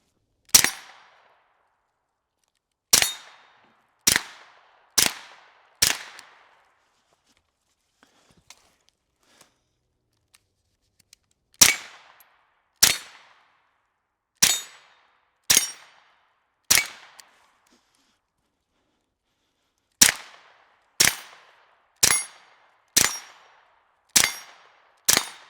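Gunshots from a Flux Raider firing on a range, sharp isolated cracks in loose groups of three to five with quiet gaps between, each shot ringing briefly before fading, no talking.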